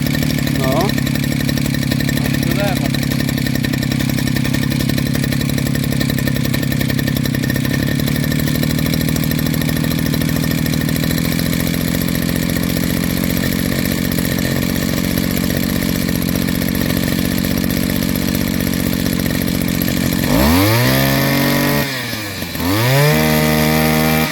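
A Demon RQ 580 petrol brush cutter, with its fuel lines replaced, runs close by at a loud, steady two-stroke drone, then revs up and down a few times near the end.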